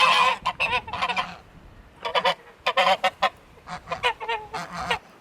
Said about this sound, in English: Some really angry geese out here.